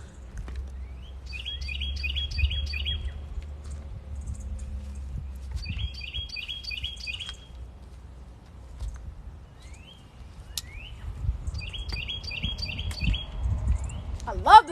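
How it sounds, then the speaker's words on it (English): Small birds chirp in three short bursts of quick, bright tweets, spaced a few seconds apart, over a low background rumble and some distant movement. "Y'all hear my birds?"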